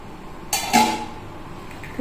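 A metal pot and dishes clatter and clink in a kitchen as freshly cooked fish curry is moved into a serving bowl, two short, close, bright knocks standing out over quiet room noise.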